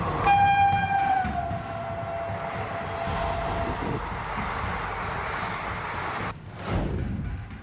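A train arrives at Sheikhpura railway station in India, sounding a loud horn that fades into a steady rumble of rolling carriages. A short whoosh swells near the end.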